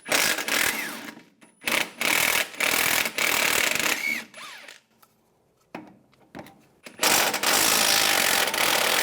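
A hand ratchet with a 15mm socket backs out the front shock bolts on a 2007-2014 Cadillac Escalade ESV, producing loud, close bursts of rapid clicking separated by short pauses.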